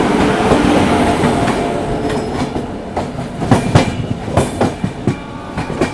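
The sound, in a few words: Humsafar Express train overtaking Shakur Basti–Dhanbad Special train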